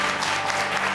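Studio audience on an entertainment talk show clapping loudly and continuously, a dense close burst of applause with no voices over it.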